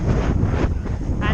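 Wind buffets a microphone in heavy, rumbling gusts while someone cycles on a road bike near a bypass over a dual carriageway, a loud, close roar filling the short stretch.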